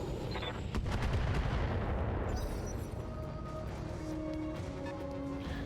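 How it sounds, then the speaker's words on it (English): Mech weapons firing in the BattleTech campaign game: a dense, loud barrage of heavy gunfire and explosive booms rolling continuously, with deep rumbling impacts throughout. "And just shoot at that again. Roger that. Firing on target."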